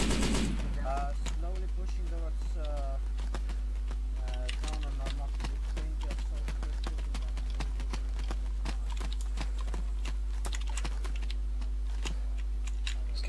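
Video game gunfire during a military operation crackles as a steady run of sharp rapid shots and clatter, with voices talking over it throughout.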